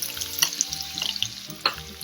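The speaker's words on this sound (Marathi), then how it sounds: "आपल्या हिरव्या मिरचीचा ठेचा सुद्धा छान परतला गेला." Green chili, ginger and garlic thecha frying in a pan, a close, steady sizzle with scattered clicks and scrapes of stirring.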